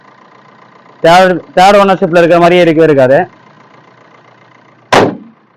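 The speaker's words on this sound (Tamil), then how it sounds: "வண்டி இன்ஜின் நாய்ஸ் சவுண்ட் கேட்டாவே தெரியும்." A 2012 Maruti Swift VDI diesel, third-owner car, idles with a steady low hum beneath someone speaking loudly nearby, and a short sharp sound follows near the end.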